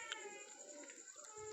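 Domestic pigeons held in a loft coo softly and repeatedly, faint and a little distant against a quiet background hum.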